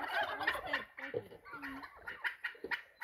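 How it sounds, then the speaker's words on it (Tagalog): A turkey gobbles repeatedly on a heritage farm in Canada, a run of loud, rattling, bubbling calls close by, with short gaps between bursts and faint background voices. "Turkey."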